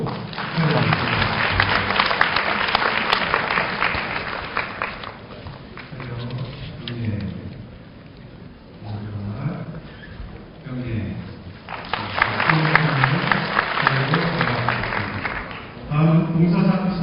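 Audience at a university graduation ceremony applauding an award recipient, clapping rising and falling in waves over sustained stretches, with an announcer's voice speaking between and over the applause.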